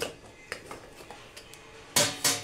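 A hot pot for baking homemade bread set down with a few light metallic clinks, then its lid clanks on with two loud, close knocks near the end.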